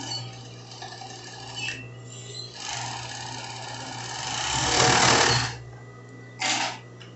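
An overlock sewing machine stitching a lined tank dress: a close, steady whirring hum that runs in bursts of varying length, swelling loudest near the end, with a short final spurt and no talk.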